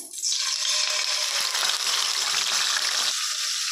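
Onion paste goes into a hot pan with cinnamon, cardamom and cloves, hitting the oil with a sudden loud hiss and then sizzling steadily and vigorously before easing slightly near the end.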